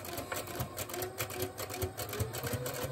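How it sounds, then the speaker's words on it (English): A sewing machine runs steadily while stitching a baby memory quilt, a close, continuous rapid chatter of needle strokes with a mechanical whir underneath. "I'm just sewing on that line"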